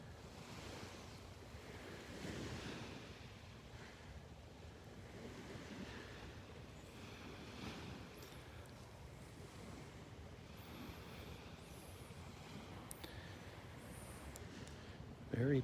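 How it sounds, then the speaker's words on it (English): Waves roll onto quiet Vanderbilt Beach in a steady, soft wash of surf mixed with wind noise on the microphone, continuous and low-level throughout. "A quiet Vanderbilt beach."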